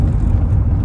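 A car belonging to a maternal uncle's friend, heard from close by as a steady low engine rumble and whir with no breaks for the whole short stretch.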